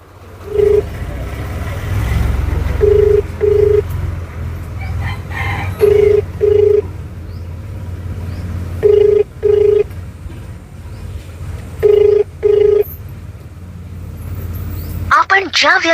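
A phone line rings in repeated paired tones, evenly spaced every few seconds, over a low background hum, with a short burst of other sound at the end.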